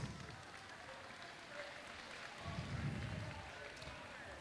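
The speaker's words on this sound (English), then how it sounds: "A round of applause for our under 2s ladies." An audience applauds the female competitors of a strongwoman contest, giving a steady wash of clapping at moderate distance that swells slightly midway, with faint voices mixed in.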